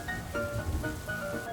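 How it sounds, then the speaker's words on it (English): Rain patters steadily on a roof in a cartoon scene. The soft wash of drops sits beneath faint, sustained musical tones, and no voices are heard. "Peppa looked out the window and saw the rain, water pattering on the roof."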